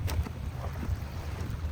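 A boat straining to pull a ghost net loose in the sea off Tung Lung Island, Hong Kong, heard as a low steady engine rumble under wind and lapping water, with no talk.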